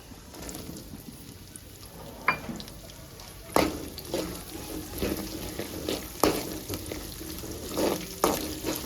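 Green chillies, chana dal and finely chopped onion fry in oil for upma, a low steady sizzle under occasional sharp scrapes and taps of a spatula against the pan.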